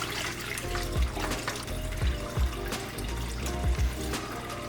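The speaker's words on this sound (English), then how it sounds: "When done, we rinse them with cold water." Squid pieces, cut-up tentacles among them, rinsed under a cold running tap in a sink, water splashing steadily and close with a few louder gushes.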